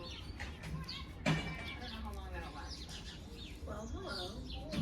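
Birds chirp outdoors in a backyard, small bright calls scattered through steady background noise, fairly faint and distant.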